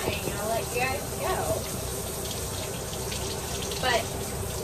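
Running water rinses a Yorkie dog during a bath, a steady close splash and gush with brief whining squeaks and occasional voices underneath.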